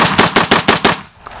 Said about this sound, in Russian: А теперь серию выстрелов.